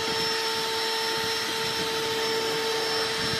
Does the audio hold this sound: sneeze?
no